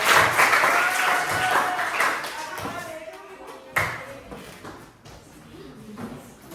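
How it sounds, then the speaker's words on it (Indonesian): A group of people in a classroom presentation gives a burst of clapping that starts loud and thins out over several seconds, with scattered voices and some shuffling underneath. "kita berikan tepuk tangan yang keras"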